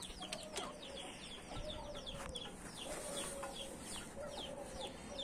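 Chickens and roosters clucking steadily at a poultry farm, with several birds calling at moderate distance and occasional wing flaps, no talk over them.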